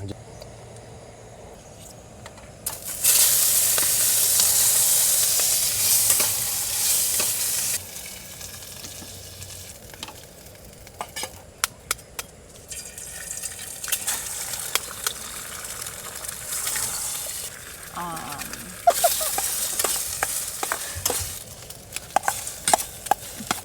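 Steak and scrambled egg fry in oil with a steady sizzle, joined by intermittent scraping and clinks of stirring, close and fairly quiet.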